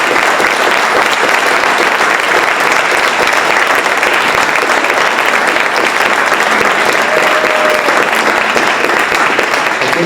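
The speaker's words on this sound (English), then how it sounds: "give all of them a huge round of applause" A school scholarship-night audience gives long, loud, dense applause for honored high-school students, a continuous wash of clapping throughout with no pauses.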